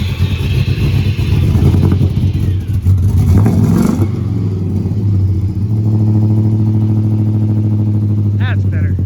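A 1982 GMC squarebody truck with an LS engine idles loudly up close with a deep steady rumble, rises in a rev, then settles back to an even idle, with someone talking over it.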